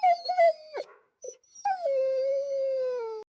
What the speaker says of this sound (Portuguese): Cheio de piedade, o cachorro dá um longo suspiro.